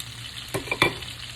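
Pork chops frying in a pan over medium heat give off a steady sizzle, broken by a few sharper crackles and spits close by, with no talk.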